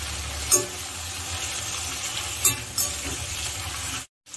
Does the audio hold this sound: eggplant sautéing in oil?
yes